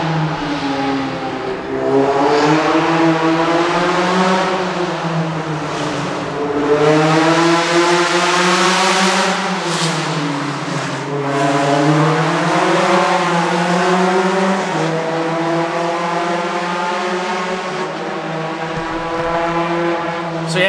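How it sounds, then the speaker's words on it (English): A race car engine roars loudly and continuously, its pitch rising and falling as it speeds past close by, with a sustained high-revving drone. "Sorry, another car coming through."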